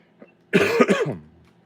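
A short, harsh burst of a few coughs, close and loud, preceded by a faint breath.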